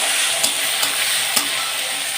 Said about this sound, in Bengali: আমার আলুটা ভাজা হয়ে গেছে, এবারে আমি বেগুনগুলো দিয়ে দেব